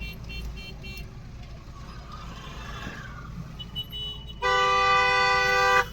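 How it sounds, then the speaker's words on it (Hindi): Honking in a roadside traffic jam, faint scattered toots over low engine rumble, then a loud, sustained, close car horn blast near the end. "अब ये देखो बीच में दोस्तों इन्होंने ट्रैफिक जाम कर दिया है"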